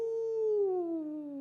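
A human voice imitates a wolf howl, one long sustained tone that slowly slides downward in pitch, clear and alone.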